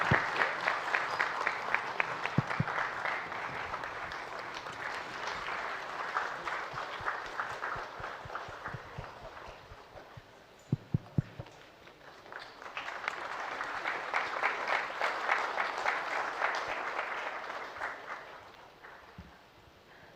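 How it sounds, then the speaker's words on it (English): Audience at a spiritual gathering on climate action and peace applauds in a standing ovation for BK Shivani, clapping swelling and fading in two long waves with a quieter lull and a few sharp knocks between them. "let's give her a big applause, standing ovation"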